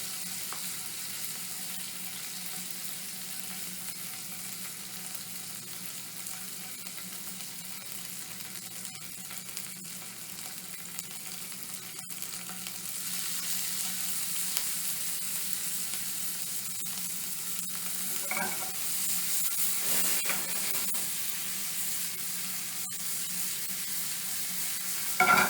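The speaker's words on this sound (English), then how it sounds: "You hear that sizzling? That's the sound you want to hear when you put it in." Freshly caught game frying in a hot pan gives a steady, crackling sizzle, continuous and close throughout, with occasional louder pops and spatters toward the end and no talking.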